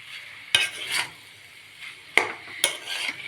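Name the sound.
mixing potato samosa filling with spices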